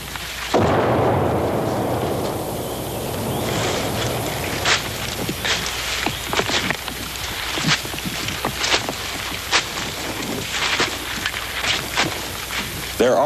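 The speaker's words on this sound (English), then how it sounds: "Their own artillery pounds the area around the men, as close as 100 yards." Artillery fire pounds the ground close around a Vietnam War infantry patrol, with repeated sharp blasts and booms standing out over a continuous rumbling, noisy battlefield background.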